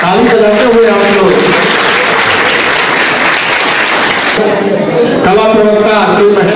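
An audience at a farewell party claps continuously in a loud, dense burst, with a voice speaking over the applause at the start and again as the clapping thins out near the end.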